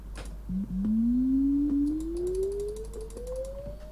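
A Pac-Man game sound effect in Klik & Play: a single long rising electronic tone, sliding slowly upward for about three seconds, with faint clicks and ticks around it against a low hum.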